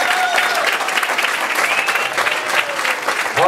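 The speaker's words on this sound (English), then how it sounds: "he deserves a big round of applause for that" Warm crowd applause fills a fundraiser hall, steady and close throughout, with a few faint voices and cheers mixed into the clapping.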